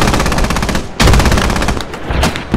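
Hail cannon firing in the Squad video game (Middle East Escalation mod): loud, rapid, dense bursts of gunfire-like blasts that run nearly continuously, with a heavy boom near the middle.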